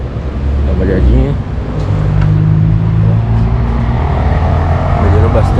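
A Honda Fit on new 195/55 R16 tires rolls along the road, its steady engine and tire drone continuous and fairly loud, with a person talking over it throughout.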